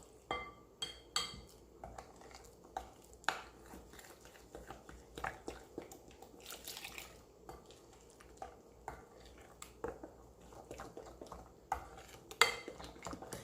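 Repeated clinks and scrapes of a utensil against a bowl as a cornmeal and water mixture for Jamaican cornmeal porridge is stirred, steady and close, with no talking.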